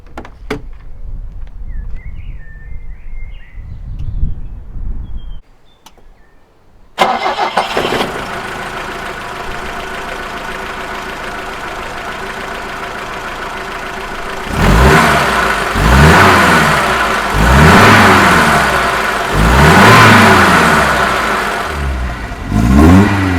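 A 1974 BMW E12 520 engine cranks briefly and catches, settling into a steady idle before several rising and falling revs, loud and close with no talk.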